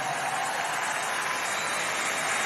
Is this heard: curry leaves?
no